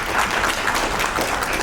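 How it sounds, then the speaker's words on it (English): An audience at a packaging industry congress in a hotel keeps clapping for an invited doctor: a brief, continuous wash of many hands applauding close and loud, with no talk audible. "Kindly keep the applause going."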